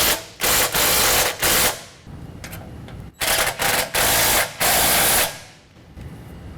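A power tool drives bracket bolts tight on a set of Go Rhino Dominator D4 nerf bars, in loud rattling bursts of about a second each, several in a row with short pauses between, close by.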